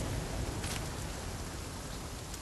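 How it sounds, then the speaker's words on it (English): Steady rain pours in The Flame in the Flood, a dense, even hiss of falling drops that fills the whole moment with no break, fairly soft and constant. "because it's raining."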